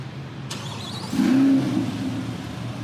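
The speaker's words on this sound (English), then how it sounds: "Give you a little auto start" A black 2020 Chevrolet Corvette C8 Z51 fires up by remote start: a brief click, a short starter whir, then a rising engine flare that settles into a steady idle nearby.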